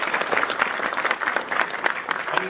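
A short burst of steady, dense applause from an audience during a podcast recording, close and loud, with many hands clapping at once and no voices over it.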